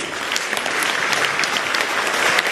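Audience at a choir's 30th-anniversary concert in Vinnytsia breaking into applause, a thick, continuous patter of many clapping hands, close and sustained without speech.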